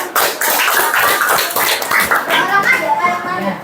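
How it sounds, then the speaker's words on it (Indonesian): Schoolchildren in a classroom clap for a group of classmates, brief scattered clapping mixed with lively children's chatter close by. "Ayo tepuk tangan buat temannya"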